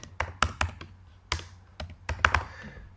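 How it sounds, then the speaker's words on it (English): Fingers tap out text on a computer keyboard in quick, uneven bursts of close, crisp key clicks separated by short pauses, with no voice over them. "So I'm just going to click and I'll type"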